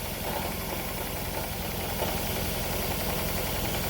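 A Toyota Estima Hybrid's 2AZ-FXE engine idles roughly with a multi-cylinder misfire, giving a steady, dense mechanical drone with a faint uneven pulsing throughout, heard alone without voices.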